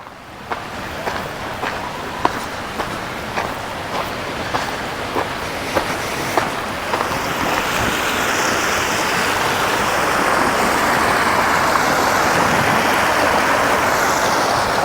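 River water rushing beside a trail with picnic tables, a steady loud roar that builds and stays constant throughout, with a few faint knocks or footsteps early on.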